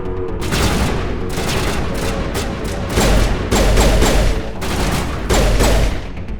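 Rapid bursts of gunfire from the Mass Effect video game, loud and sustained with dense repeated shots and several heavier volleys, close in the mix with no talking.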